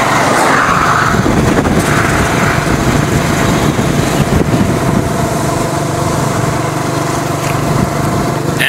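Motorbike engines drone loud and continuous as bikes pass along a road, a dense buzzing roar that fills the whole stretch without a break.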